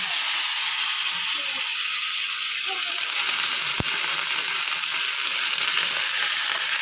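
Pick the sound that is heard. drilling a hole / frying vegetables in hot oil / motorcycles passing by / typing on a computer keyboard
frying vegetables in hot oil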